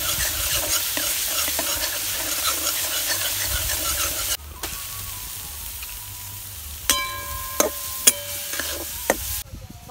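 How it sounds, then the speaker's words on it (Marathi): Onion, garlic, green chilies and ground cumin sautéing in oil for vangyache bharit, a steady close sizzle with stirring, dropping quieter midway, then a few sharp spoon scrapes against the pan near the end. "हे बघा, आता हा कांदा लसूण छान परतलं गेलं, आणि अजून देखील आपल्याला परतायचं."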